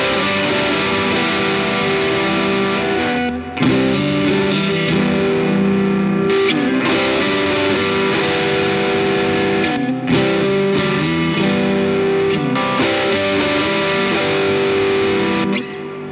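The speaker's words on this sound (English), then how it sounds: "Just gonna do a bit of a riffy thing with the drive channel and the Klon together on the bridge pickup" Electric guitar riff on the bridge pickup through an amp's drive channel stacked with a £30 Klon clone overdrive pedal, loud distorted chords repeating in a rhythmic pattern with short breaks, close and sustained.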